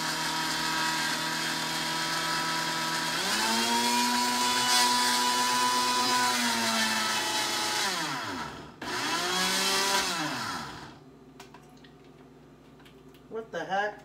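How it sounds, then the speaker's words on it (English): A blender whirs loudly and steadily, its pitch dipping and surging as it stalls and restarts, then cuts off, leaving a few clinks. "Sometimes my blender wants to act up"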